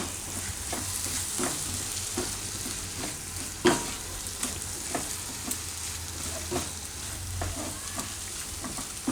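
Soya paneer bhurji with tomato cooks in a pan while being mixed, a soft continuous sizzle with scattered spatula clicks and one sharper knock, no one speaking.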